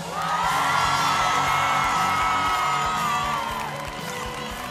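A large crowd at a Japan Expo 2023 cosplay show cheers and whoops loudly and continuously, a dense roar of shouting voices that tapers slightly toward the end.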